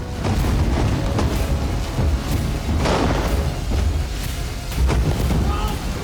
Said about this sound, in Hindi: कहीं बैक टू बैक धमाके पूरे इलाके को दहला रहे हैं।